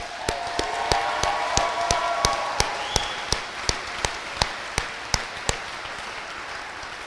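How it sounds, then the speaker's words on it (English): Applause from a graduation audience, a broad clapping wash with sharp individual claps standing out at a steady beat, holding fairly constant before thinning near the end. "Let's give them a round of applause again."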